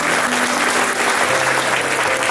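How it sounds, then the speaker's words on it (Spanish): Applause from wedding guests for newlyweds, a dense and loud burst of clapping that holds steady close by, with no talk over it. "Un aplauso."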